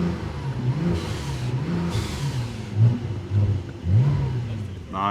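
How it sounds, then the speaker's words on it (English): Flat-six engine of a Brabus Porsche 911 Turbo S, 820 hp, rumbling and blipping its revs through the sport exhaust, close and loud, a few quick throttle rises near the end, with faint talking underneath. "The flat 6 sound right here."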